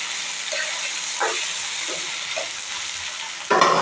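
Fish frying in a covered pan for an Assamese fish curry, a steady hiss of sizzling oil with a few soft stirring bumps and a louder sizzle burst near the end, no talking.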